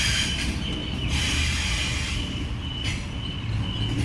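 A passenger train pulls away from a platform at Epping station, a steady rumbling roll with faint wheel squeal and hiss heard from close by on the platform, with no voices.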